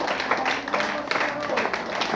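Church congregation clapping in scattered, uneven bursts that fade in and out over a couple of seconds, with some voices mixed into the applause.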